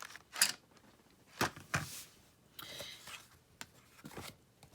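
Faint scratchy strokes of a gray watercolor pencil on paper come in short irregular bursts, close and quiet, with scattered light rustling.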